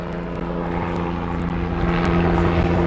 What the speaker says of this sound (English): That is King County helicopter that is flying overhead.